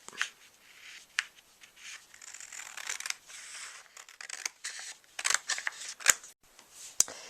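Scissors snip through card paper while shaping a cutout for a handmade chicken-hatching-from-an-egg greeting card: close, irregular crisp cuts with sharp clicks of the blades, no voices.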